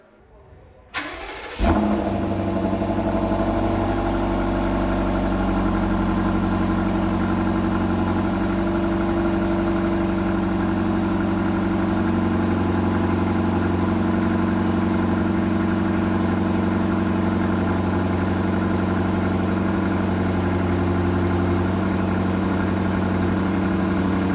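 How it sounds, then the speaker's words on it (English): A 2021 Alpina XB7 SUV engine cranks and catches, then settles into a steady, low idle rumble that runs evenly for over twenty seconds. "why don't we do an engine starter for you and you can see what this thing sounds like"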